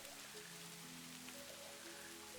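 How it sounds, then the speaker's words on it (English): Rain falls steadily through a forest, a soft, even hiss of drops on foliage and wet ground, continuous and moderately quiet with no voices present. "The sound of the rain was the same as it had been an hour ago"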